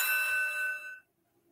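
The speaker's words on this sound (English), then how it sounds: "let's hit the opening bell" Opening bell for a wrestling preview show, a single bright ringing tone that sustains for about a second and then cuts off cleanly into silence.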